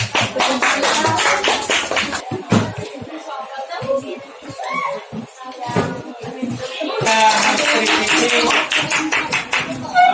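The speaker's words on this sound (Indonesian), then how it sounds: "tepuk tangan lagi sekali lagi" Classroom applause from students clapping for a group that has just presented, dense bursts of hand claps at the start and again toward the end, with a lull of softer chatter and laughter in between.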